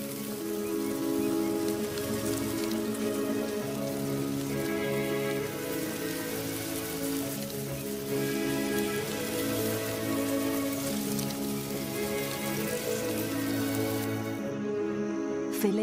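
Steady rain falls on open ground in the wild, a dense, even hiss of drops that continues without a break, with a soft tonal bed underneath.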